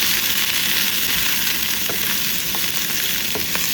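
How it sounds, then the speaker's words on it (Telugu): Chopped broccoli and onion with salt and turmeric sizzle steadily in oil in a pan, loud and close, with the scrape and clink of a spoon stirring now and then. "సో ఇప్పుడు బ్రాకలీని చక్కగా మగ్గనిద్దామన్నమాట. మధ్యలో ఇలా కలుపుతూ మగ్గనిస్తాం."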